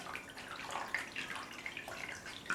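A bathroom tap runs while a makeup brush is rinsed and squeezed under the stream, a close, uneven splashing and trickling with small bursts as the water hits the bristles, and no one speaks.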